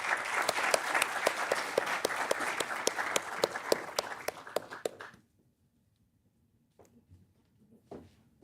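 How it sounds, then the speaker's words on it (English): Audience applause in an auditorium during a felicitation of speakers, a dense burst of many hands clapping for about five seconds, then silence with a few faint scattered claps. "Please give a huge round of applause."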